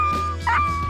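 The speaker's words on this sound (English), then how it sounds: "Coyote Pup Distress 3 is your friend" An electronic predator caller plays a coyote pup distress call during a coyote hunt in Tennessee. It gives continuous whining yips and whimpers, fairly loud, over a faint steady electronic hum.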